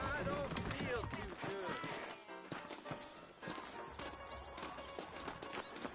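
Horses clip-clop in the Western video game Red Dead Redemption, a dense run of hoofbeats mixed with game music and voices talking throughout.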